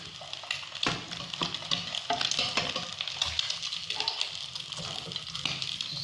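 Egg frying in a pan for a sunny-side-up egg, giving a steady dense sizzle and crackle with occasional stirring scrapes, close and continuous for the whole stretch without talk.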